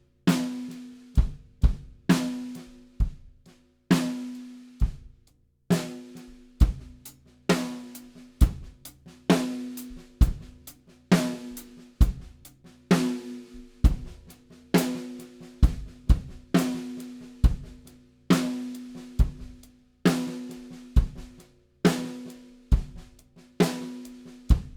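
A drum kit plays slow alternating snare and hi-hat ghost-note exercises, with sharp snare strokes ringing and softer hits between them in a steady, even groove, alone with no voices.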